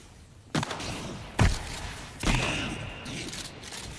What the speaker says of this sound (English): Let's use a shotty.